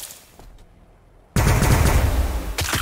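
Sudden heavy automatic gunfire erupts after a quiet stretch in the Warhammer 40000 Battlesector strategy game, a loud, dense sustained burst followed by another onset near the end.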